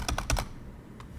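A command is typed on a computer keyboard as a quick run of four close key clicks, followed by a pause and then one softer tap, with no talking.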